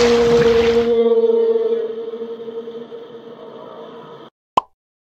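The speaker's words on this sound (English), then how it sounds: "we talk using a special sound known as whale song." Whale song: long sustained tonal moans with steady harmonics that hold for a few seconds after a brief burst of broadband sound, then cut off, followed by a single sharp click.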